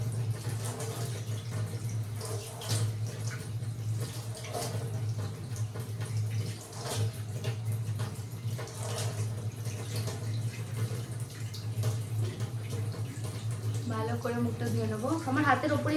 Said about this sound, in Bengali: এবার মুখটা ধুয়ে নেবো